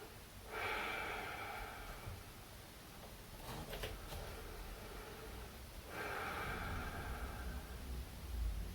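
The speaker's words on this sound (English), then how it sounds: "So a few relaxing breaths here." Slow, relaxed breathing in child's pose during yoga, two long airy exhales a few seconds apart, close and soft, with a quiet rustle between them and no talking.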